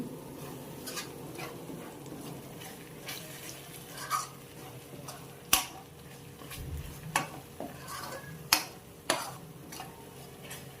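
Tomatoes stewing and being stirred in a pan for a cauliflower curry, with a soft steady sizzle broken by scattered sharp clicks and scrapes of a spoon against the pan, close by and with no talking.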